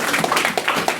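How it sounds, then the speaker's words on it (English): Applause from an audience at a student union debate, a brief burst of dense, steady clapping heard close and moderately loud. "we need one round of applause for the person who's not even in the room"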